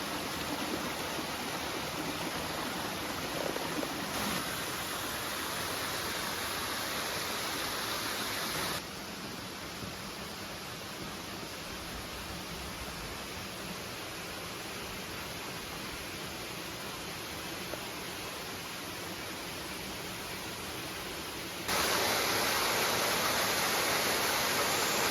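Water pours down a waterfall on a hike, producing a constant broad rushing roar that shifts slightly in level a few times but never stops, with no voices.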